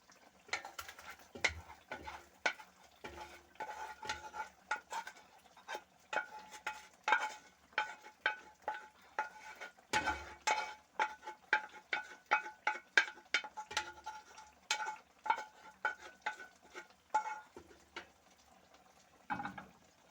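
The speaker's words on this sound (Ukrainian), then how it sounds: "Смажиться цибулька, поставила вже смажити баклажани" Onions crackle and sizzle in oil in a hot pan, with a steady spattering hiss and intermittent sharp pops close by.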